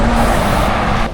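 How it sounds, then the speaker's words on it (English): A heavy truck rumbles past close by on a road in Montenegro, a loud steady roar of engine and tires filling the whole moment. "I'm hating the trucks"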